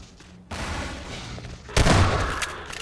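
A grenade blast and gunfire in Half-Life 2: a burst of shooting kicks in, then a louder booming explosion with crackling debris that slowly fades, fairly close and with no talk.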